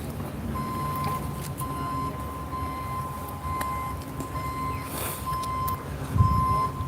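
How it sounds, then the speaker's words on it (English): A steady, high-pitched reversing beep repeats in regular pulses over a rumbling engine and traffic background, with a louder thump near the end. "every time you hear that big beeping backing up"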